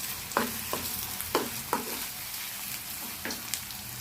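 Dried fish (shutki) frying in a hot pan, with a steady sizzle broken by several sharp stirring scrapes and clatters spaced through the sound, close and fairly quiet, with no voices.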